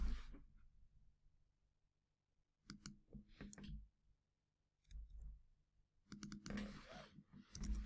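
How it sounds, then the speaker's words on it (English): Quiet computer keyboard typing comes in short bursts of clicks separated by pauses, faint and close. "If you just type last name, Umuswid."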